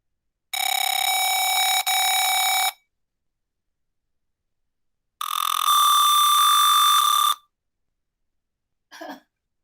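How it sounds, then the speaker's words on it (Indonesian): A piezo buzzer on an Arduino Uno automatic cat feeder gives two long, steady, shrill electronic tones of about two seconds each, separated by a pause, followed by a brief faint rustle. "piezo buzzer akan berbunyi"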